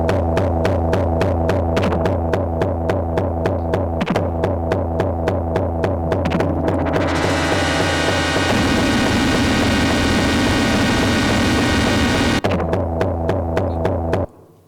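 Dark, intense video game score for a tense, claustrophobic scene: a loud, steady throbbing pulse under a droning hum, with a harsh rising noise swelling in the middle before the pulse returns.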